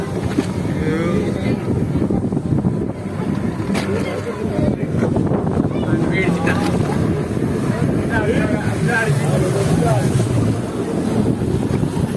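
A boat moves across water in Goa with steady rushing and wind buffeting the microphone, while voices chatter throughout.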